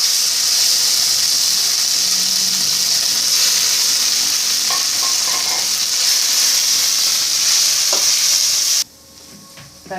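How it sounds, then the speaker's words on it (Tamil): Mint thokku paste sautés in a pan with a loud, close, continuous sizzle and hiss and occasional stirring scrapes, then the frying cuts off abruptly near the end, leaving quieter background sounds. "நல்லா வதங்கிடுது இதுக்கு மேலே வதங்க வேண்டாம்"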